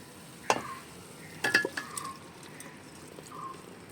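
Fried chicken being stirred into biryani masala in a pot, a few sharp metal scrapes and clinks of a spoon against the vessel over a faint sizzle, close and otherwise quiet.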